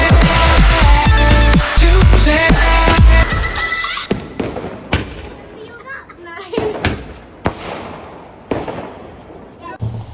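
Diwali sky shot fireworks burst with loud bangs and crackles at close range, while children shout and play throughout.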